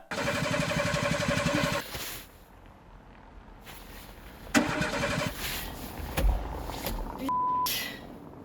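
A car engine cranks with a loud rattling burst, then falls away into quieter rumbles, with a few sharp clicks and a brief tone near the end and no speech.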